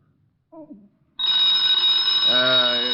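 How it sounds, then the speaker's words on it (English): A telephone bell rings in a 1949 radio detective drama, a loud sustained electric ring that starts after a short spoken line and continues. "Get the phone, Walt."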